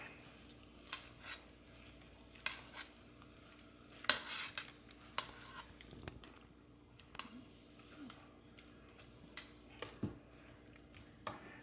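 Steamed Chinese eggplant is mixed in a bowl with vinegar and salt, giving quiet, close scattered clinks of utensils on the bowl and soft squishy stirring, irregular and sparse.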